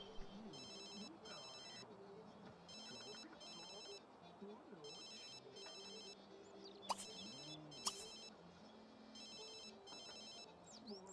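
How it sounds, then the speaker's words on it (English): A telephone rings in The Sims video game, its electronic trill repeating in regular bursts over quiet background music and game sounds, with a few sharp clicks. "Answer the phone."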